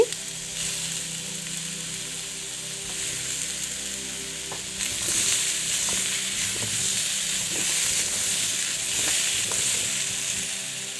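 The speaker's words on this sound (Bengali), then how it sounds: "তারপর তেলের মধ্যে সবজিগুলোকে একটু কষিয়ে নিচ্ছি।" Mixed vegetables and tomato sizzle steadily in hot oil for a Bengali mixed vegetable curry, with scraping stirs and soft clinks of a spatula through the pan, growing a little louder halfway through; no voices.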